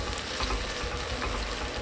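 Onion sizzling in a pan, a steady close hiss of frying with faint crackle throughout, no voices.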